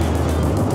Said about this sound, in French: ça me fait plaisir de retrouver un bon V6 qui marche là